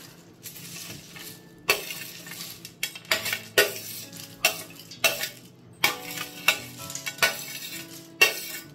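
Fried dry fruits, curry leaves, peanuts, cashews, roasted chana and coconut being stirred into crisp poha chivda in a pan, with repeated scraping, rattling clinks of a spoon against metal, steady and close.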